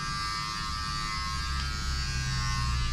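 An electric hair clipper buzzes steadily close by as it cuts hair in a barbershop, a continuous even hum with no talk.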